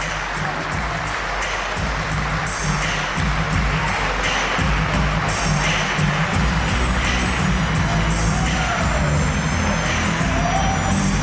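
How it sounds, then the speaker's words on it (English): Wrestling crowd at a CZW event roars and applauds steadily throughout, a dense, loud wash of cheering with no break. "Listen to the crowd."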